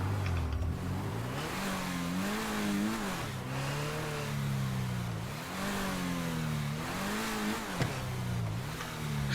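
A car engine in the GTA video game revs repeatedly, its pitch rising and falling in a series of loud surges over a steady rumble.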